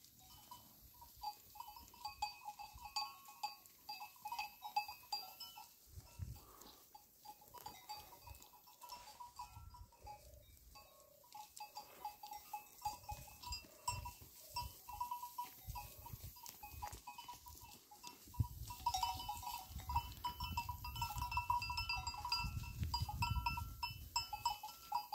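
A flock of sheep grazes on low oak leaves in a field at sunrise, with steady tearing and munching, occasional bleats and a faint bell, growing louder and busier toward the end.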